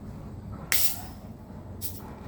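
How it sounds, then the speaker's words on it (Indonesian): A plastic bottle of Coca-Cola is opened for a Mentos experiment, giving two short, sharp bursts of fizzing gas hiss about a second apart over a quiet background. "Yang pertama, kita membuka botol Coca-Cola."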